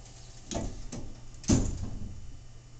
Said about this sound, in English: And the door closes.